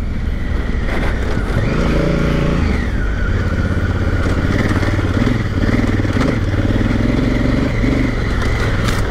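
A Honda Africa Twin 1100cc adventure motorcycle from the 2016-2019 range roars steadily up close while ridden through dirt ruts, its engine loud and continuous throughout with no voices.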